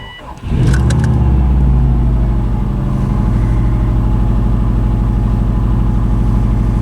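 A Subaru WRX wagon's engine, freshly replaced, starts and settles into a loud, steady, smooth idle close by, with an even low rumble and no knocking.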